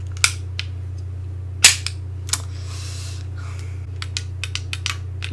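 Gunfire from a gun in a zombies video game: a few sharp isolated shots spread across the clip, one loud burst followed by a quick run of small clicks, over a steady low hum.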